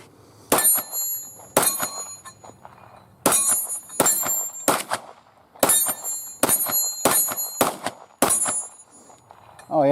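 A Walther PPQ pistol fires about a dozen sharp, loud shots in an uneven rhythm, some in quick pairs and others spaced apart, each crack ringing briefly before fading.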